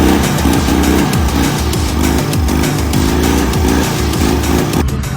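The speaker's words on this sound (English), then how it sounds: "Come on, rev it up again." A rusted-out truck's engine revs loudly and continuously at an outdoor outlaw truck show, its rough, throbbing exhaust rising and falling in pitch without a break and nearly drowning out everything else.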